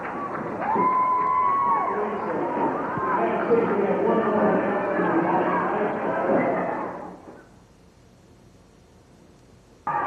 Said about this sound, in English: a little bit of crowd noise from the varsity team.